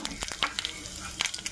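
Brief crackling sizzle of cumin and asafoetida dropped into hot oil in a tadka pan, with a few sharp pops and spatters.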